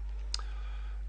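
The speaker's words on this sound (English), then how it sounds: "So we double click on that and bring that up" A single crisp computer mouse click, short and close, with only faint background hum around it and no talking.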